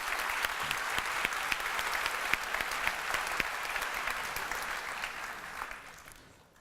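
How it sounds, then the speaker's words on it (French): Warm applause from a conference audience welcoming a keynote speaker, many hands clapping steadily at moderate volume, then gradually fading out toward the end. "Un fort applaudissement pour Christian Forêt."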